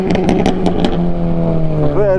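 A car with a 2 litre GTI engine revs up, a loud, close engine note that rises and holds with rhythmic pulses, while people talk over it.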